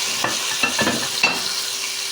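Chicken pieces sizzling in hot butter in a pan, a steady close hiss broken by a few soft crackles and spatters, with no talking.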